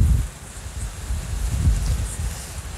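Steady rain falling outdoors in Ho Chi Minh City, a dense low patter with gusty rumbling, fairly loud and close, with no voices.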